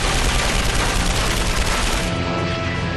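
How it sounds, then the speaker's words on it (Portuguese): Dense, loud burst of machine-gun fire striking a P-47 Thunderbolt fighter in aerial combat, a continuous rattling barrage across the whole span that thins slightly near the end. "O Thunderbolt estremece sob o impacto de outra rajada."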